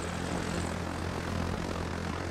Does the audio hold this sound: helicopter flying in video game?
yes